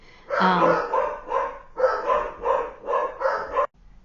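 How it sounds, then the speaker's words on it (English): Dog barking outside, a run of about six repeated barks in a fairly even rhythm, moderately close and clear, then stopping. "It's probably my neighbor walking the dog"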